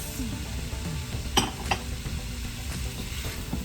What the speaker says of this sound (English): We want to mix the broccoli up into our seasonings.